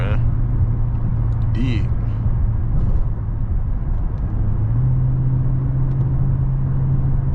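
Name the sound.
500 hp Scat Pack car engine accelerating hard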